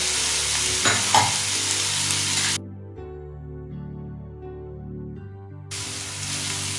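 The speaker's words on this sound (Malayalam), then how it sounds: "1 കപ്പ് സവാള, 1/2 കപ്പ് കാപ്സിക്കം ചെറുതായി അരിഞ്ഞത്. ഇത് ഒന്ന് ചെറുതായി നമുക്ക് വഴറ്റിയെടുക്കാം." Chopped onion and capsicum sauté in a pan for veg Manchurian, a loud bright sizzle that drops away midway, leaving a quiet tonal hum, then returns just as strongly near the end.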